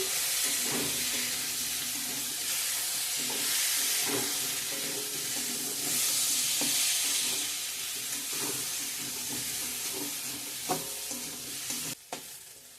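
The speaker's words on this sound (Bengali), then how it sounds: "ভালো করে ভেজে নেব আলু পটল" Potatoes and pointed gourd fry in a hot pan with a constant loud sizzle, broken by regular scraping stirs of a utensil throughout.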